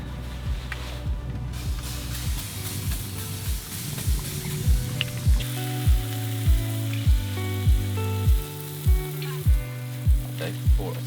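Bacon medallions and Araucana eggs sizzle in a pan with a little fry light, a continuous close crackle broken by regular clinking strokes of a utensil stirring and scraping, steady and rhythmic throughout with no talking.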